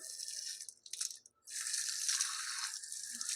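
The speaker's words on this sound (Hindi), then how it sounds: "अब उल्टे हाथ को धोएंगे।" Tap water splashing over the left hand during wudu, a steady close running-water hiss broken by a short pause as the hand is rubbed, then flowing again; no talking.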